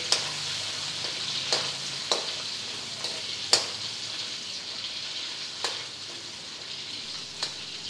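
Carrots frying in a wok, a steady bright sizzle broken by a handful of sharp scraping stirs spaced a second or two apart, close and fairly quiet with no talking.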